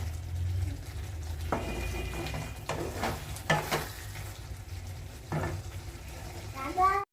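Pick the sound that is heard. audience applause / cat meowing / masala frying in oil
masala frying in oil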